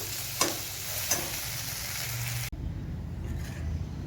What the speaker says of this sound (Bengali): আরও কিছুক্ষণ একটু ভাজা করে নেব